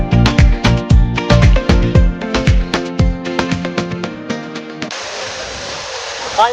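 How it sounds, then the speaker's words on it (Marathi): Rhythmic music plays, then cuts to the constant rushing roar of KP waterfall near Khopoli, loud and close. "खोपोलीजवळ इतका सुंदर धबधबा आहे"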